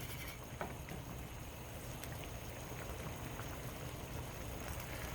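Tomato sauce simmering in a pot gives off a faint, steady bed of soft bubbling and popping that holds evenly throughout.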